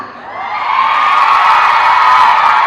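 A crowd at a movie gala event screams together in a sustained, high-pitched shriek that swells quickly and holds loud for a couple of seconds.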